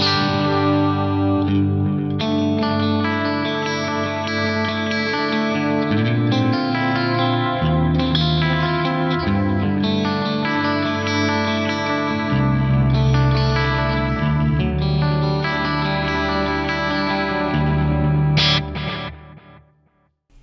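Electric guitar through a Digitech Timebender delay pedal set to analog mode plays sustained chords and notes with warm repeating echoes, loud and continuous before ringing out and fading near the end.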